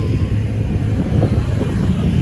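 Strong wind roars against the microphone during a motorcycle ride on a muddy road in Gulod, Tanay, Rizal, a steady low buffeting rumble that fills the short stretch with no talk over it.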